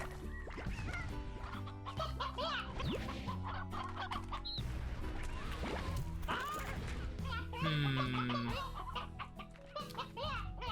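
Chickens cluck in the Slime Rancher video game, a busy run of clucks layered over game music and effects, with a voice talking now and then.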